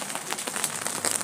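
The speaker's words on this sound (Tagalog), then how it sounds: "Ayan, umuulan po." Rain falling steadily outdoors, a dense patter of drops hitting a surface, fairly close and continuous with no other sounds.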